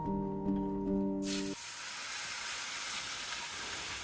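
Fresh garlic and Italian herbs fry in hot oil, a broad steady hiss of sizzling that continues alone after a brief musical tone stops at the start.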